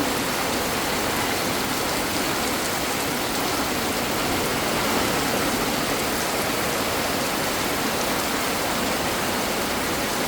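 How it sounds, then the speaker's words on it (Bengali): Heavy rain pours down on a village in a dense, continuous roar of water, with no voices or pauses. "গ্রামে প্রচুর বৃষ্টি হচ্ছে"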